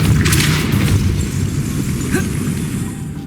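Depulso spell cast in Hogwarts Legacy, a loud booming burst that fades into a rumbling decay.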